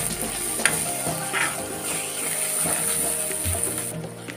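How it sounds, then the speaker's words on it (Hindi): Peas chaat masala fries in oil in a pan, a steady faint sizzle and crackle with occasional stirring scrapes, close and continuous. "हम इसे जब तक भूनेंगे जब तक इसके साइड से तेल ना छोड़ दे"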